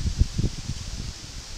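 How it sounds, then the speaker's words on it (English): Gusty wind buffets an outdoor campfire cooking spot on a breezy day, with rustling low rumbles that swell in bursts early on and then settle into a steadier, softer wash of air noise. "oh, the wind's coming up"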